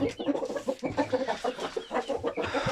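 A rooster clucks repeatedly in short, rhythmic bursts, close and fairly loud, with no talking.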